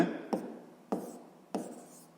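A pen scratches across paper during a sixth-grade geometry exercise. Three short, crisp strokes land at even intervals, close and quiet, with no talking.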